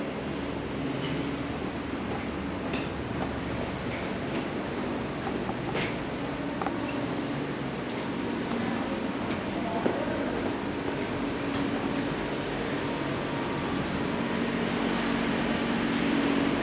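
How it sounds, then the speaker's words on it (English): A train rolls through a station in Nakhon Ratchasima, Thailand, a steady rumbling with faint clicking of wheels on rail, continuous and moderately loud, with scattered background noises and no clear talking. "I'm here in the train station"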